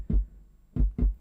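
Three short, deep bass-drum-like thumps from a Buchla modular synthesizer, each a very quick envelope-generator voltage rise and fall, with two close together after a pause; punchy and close, with nothing else playing.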